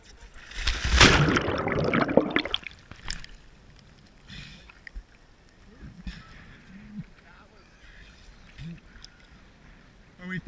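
A surfer paddles a surfboard through the water: a loud splashing rush up close at first, then quieter sloshing strokes, with voices talking nearby.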